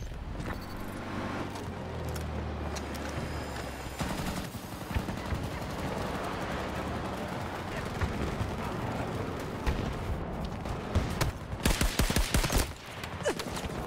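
Battlefield 2042 gunfire: bursts of automatic rifle fire and sharp shots over vehicle engine rumble, with a loud cluster of rapid, close shots near the end.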